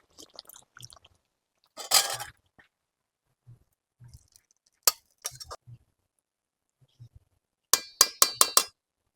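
Someone eating cooked young jackfruit curry, with sparse wet chewing and smacking sounds close to the ear, broken by silent pauses and a few sharp clinks of utensil against plate, ending in a quick run of four clinks.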